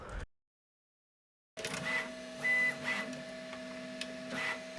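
A 3D printer toolhead purges filament on a prime tower, a steady motor whine and hum with faint stepper tones, close and quiet after a brief silent gap, without speech.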